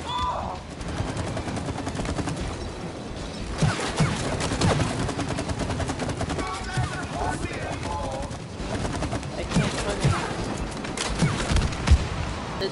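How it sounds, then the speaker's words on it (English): Rapid gunfire in the video game It Takes Two, aimed at a chain, with repeated shots and impacts throughout over game music and effects, fairly loud and continuous. "You gotta keep shooting the chain."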